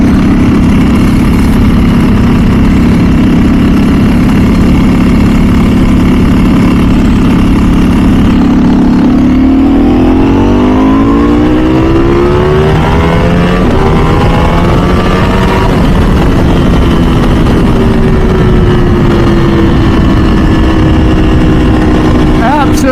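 Ducati or MV Agusta sport motorcycle engine while riding, a loud close drone that rises and falls as the revs climb through the gears, with a voice talking over it.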